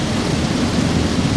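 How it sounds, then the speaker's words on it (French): Steady rain falls in Myanmar during the July monsoon, a dense, even hiss of drops that holds at the same loud level throughout, with no voices. "C'est bien la pluie."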